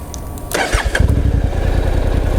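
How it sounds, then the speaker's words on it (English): Honda CTX700 motorcycle engine starting up close, a brief whirring crank followed by the engine catching and settling into a steady, throbbing idle. "I'll start this bike up so you can see."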